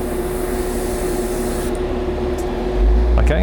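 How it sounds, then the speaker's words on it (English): An airbrush or spray gun hisses as a test spray of paint checks the pattern in a hobby spray booth, a broad steady hiss over a humming booth fan, with a brief tap near the end. "I'll use this just to check the spray pattern"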